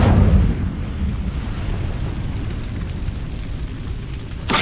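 The Incendio fire spell is cast in Hogwarts Legacy, a loud fiery whoosh with a booming onset that settles into a sustained rumbling roar, then a sharp burst at the very end.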